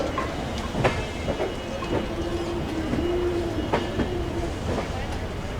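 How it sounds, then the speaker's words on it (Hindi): The Ayodhya Cantt Express runs past the Red Fort in Delhi at dusk, with a steady rolling rumble and rhythmic clickety-clack of wheels over rail joints, a faint squealing tone and occasional sharp clanks, heard close and continuous. "भाई दोस्तों, अपनी अयोध्या कैंट एक्सप्रेस लाल किला के पीछे से निकल रही है।"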